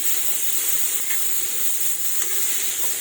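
Cut potatoes frying in a pan: a steady, loud, bright hissing sizzle that holds evenly throughout, close by, with a few faint crackles and no talking.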